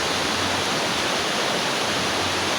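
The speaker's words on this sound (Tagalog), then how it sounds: "kusog kayo sapa sa Malasila" A strong river current rushes at a bathing spot in Malasila, a steady, loud broadband wash of flowing water that fills the whole stretch without pause.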